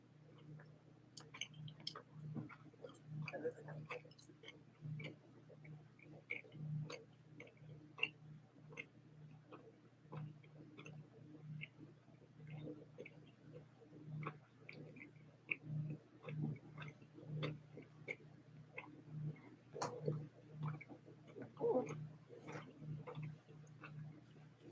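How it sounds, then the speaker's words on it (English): Chewing gum snaps and clicks in a near, irregular rhythm, soft wet smacks repeating over a low steady hum with no talking. "Sorry, that chewing gum's loud, I've been told."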